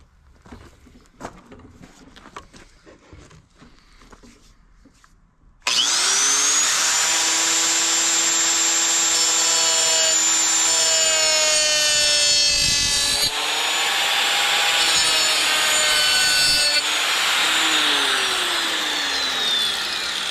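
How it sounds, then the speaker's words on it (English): A die grinder cuts into a scooter's plastic shroud during a 462 Maxy install, starting abruptly after quiet handling noises with a loud, high whine that rises and falls in pitch as the cut loads and eases. "We're gonna queue up a couple of these on the die grinder."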